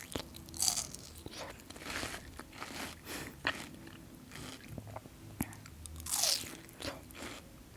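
Crunchy bites into watermelon followed by wet chewing, recorded up close for ASMR; bursts of crisp crunching recur irregularly over quiet mouth sounds.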